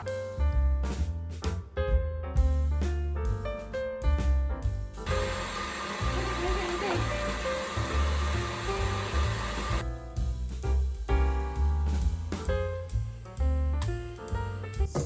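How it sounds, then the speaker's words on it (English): An electric mixer on high speed whips pink-tinted macaron meringue, its steady whirring roar lasting about five seconds in the middle, with music playing before and after. "mix on high"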